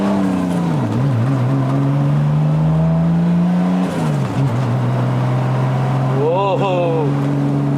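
A Nissan Cefiro A31 with an RB25DET engine, heard from inside the car on a drive in Malaysia, holds a loud, steady drone, then dips and climbs through brief throttle blips and revs. A person talks over the engine.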